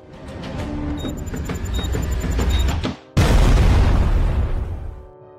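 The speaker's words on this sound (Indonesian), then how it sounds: "terjadi ledakan di parkiran bandara" A loud roaring blast from an explosion in an airport parking lot hits suddenly after a brief lull, its deep rumble swelling and slowly fading away.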